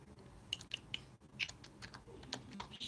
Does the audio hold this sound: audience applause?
no